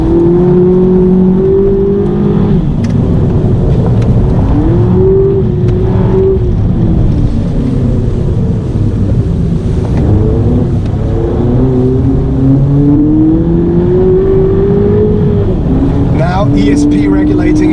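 A 2018 VW Polo 6 GTI accelerates hard on a racetrack, its engine note rising and shifting through gears, loud and steady beneath someone talking over it throughout.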